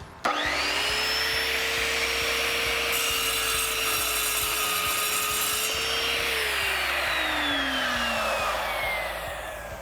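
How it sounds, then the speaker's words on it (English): An Evolution Rage 4 saw cutting through rebar, a loud continuous high whine and rasping scrape that holds steady for several seconds, then the motor pitch drops as the cut ends, with no talking. "I'm going to demonstrate how easily this saw cuts rebar."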